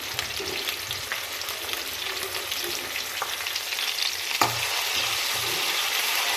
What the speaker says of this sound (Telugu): ఇలా 3 to 5 minutes ఆనియన్స్ అనేది కొంచెం కలర్ చేంజ్ అయ్యేదాకా మనం అలానే ఇది వేయించాలి